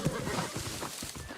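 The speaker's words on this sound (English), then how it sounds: "Summon my horse again." A horse in the game New World gives a short whinny over a few clip-clop hoofbeats, fairly faint and lasting just over a second.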